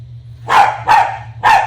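A dog barks three times in a workshop, loud and close, the barks evenly spaced about every half second over a steady low electrical hum.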